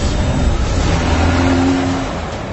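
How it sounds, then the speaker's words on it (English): 2022 Volkswagen Golf R engine accelerating, a loud, close, sustained drone that rises steadily in pitch with road and wind noise underneath. "The new engine feels even more responsive."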